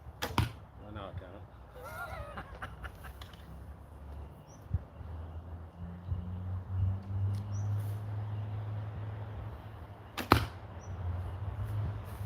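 Arrows shot during outdoor archery practice strike the target with a few sharp, separate impacts, one near the start, one midway and a louder one late, over a steady low outdoor rumble.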